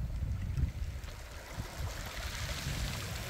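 Waves wash over a pebble beach of smooth round stones on a Korean coast, a steady broadband wash with low rumbling surges rising and falling, fairly close and alone with no voices.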